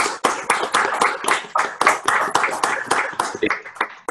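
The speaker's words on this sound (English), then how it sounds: "Can we give Phil Smith a huge round of applause," Crowd applause for Phil Smith at an evening school event, dense overlapping hand claps sustained for about four seconds, fairly close and loud, with some voices mixed in.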